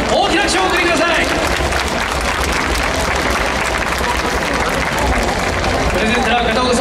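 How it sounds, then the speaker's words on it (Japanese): Loud, sustained applause from an audience at an award ceremony for a Japanese dance festival, steady dense clapping filling the whole stretch with a murmur of crowd noise beneath. "大きな拍手をお送りください"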